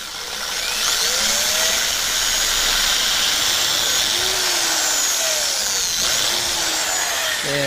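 A power drill with a 3/32 inch bit bores into a Suzuki Boulevard motorcycle side cover, a close, loud, sustained high whine with pitch shifts as the bit bites and frees, ending abruptly.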